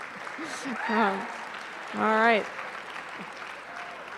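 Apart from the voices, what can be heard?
applause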